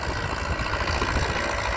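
A tractor engine runs steadily while harrowing grassy ground on a vegetable farm preparing for an okra planting, a continuous low rumbling drone with no one speaking.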